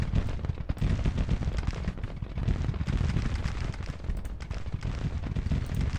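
Massed artillery and musket gunfire in Grand Tactician: The Civil War form a dense, continuous rumble of overlapping booms and crackling volleys, loud throughout with no distinct pauses.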